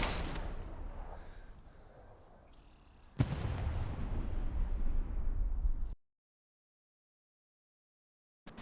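Anti-tank rocket launcher fired in the Hell Let Loose war game: a sharp launch blast decays into a rumbling tail, followed by a second loud explosive burst that rumbles for a few seconds before cutting to silence.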